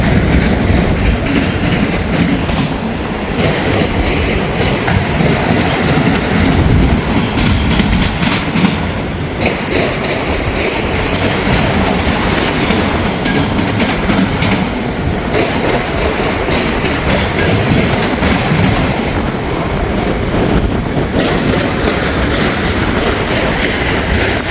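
Freight train rolling through the diamond crossings in Marion on a very windy day, giving a loud, steady rumble with rapid clickety-clack wheel impacts sustained close by for the whole stretch, with no talking.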